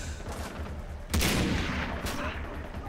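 Sniper rifle fire from an SVD in Far Cry 3, a single sharp, loud shot cracking out mid-clip over background game ambience, followed by a second fainter report shortly after.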